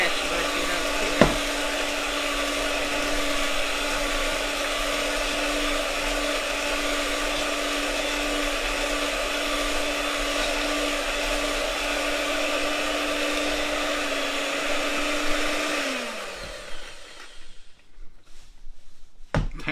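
An electric hand mixer with beaters runs at a steady, loud whine and hum for about fifteen seconds, then winds down and stops, followed by a few clatters and knocks.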